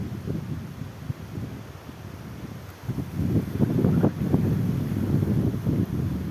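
Strong wind buffets the microphone in low, rumbling gusts that grow heavier and steadier in the second half, while fishing outdoors.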